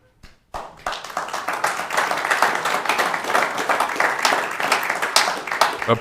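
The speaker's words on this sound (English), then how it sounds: "Applause is an outburst that we do not facilitate within our public hearings" After a brief silence, a crowd at a Norfolk, Nebraska city council public hearing breaks into steady, sustained applause, the dense clapping holding at an even level for several seconds.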